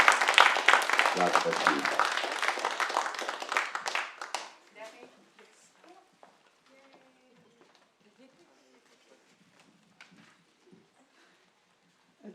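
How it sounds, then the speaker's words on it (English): Applause for a panel at a community forum, a dense burst of clapping that fades out after about four seconds into quiet room noise, a voice briefly speaking near the end. "Let's give them a round of applause."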